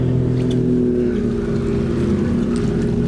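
Racing powerboats roar steadily at full throttle on choppy water at the World Predator Classic, a loud sustained engine drone with no talk over it.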